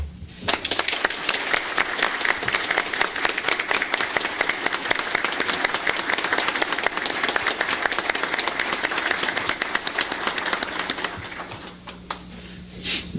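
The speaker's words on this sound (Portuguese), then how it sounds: "eu queria pedir a vocês uma salva de palmas para ele e para a equipe" Sustained audience applause at a 1987 professional and technological education meeting opening ceremony, dense steady clapping from a crowd that swells quickly, holds loud for about eleven seconds, then tapers off.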